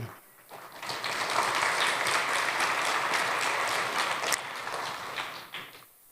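A church congregation breaks into steady applause that swells quickly, holds dense and fairly loud for several seconds, then tapers off at the end.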